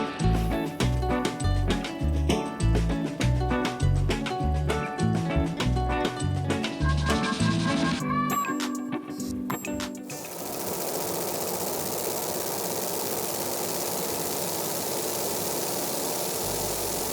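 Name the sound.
laser engraver running with exhaust fan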